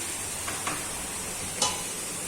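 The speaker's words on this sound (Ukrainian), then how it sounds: "Бачите, воно вже обсмажується, вже приймає той колір, який повинен бути" Turkey and vegetables fry in a pan for khashlama, giving a steady soft sizzle with a few brief clicks and stirring scrapes, close and alone without talk.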